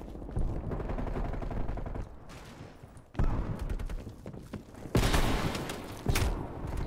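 Shotgun gunfire in the video game Call of Duty: Cold War, with several loud blasts and bursts of shots over a busy stretch of game sound, with sharp reports near the start, at about three seconds and again near five seconds.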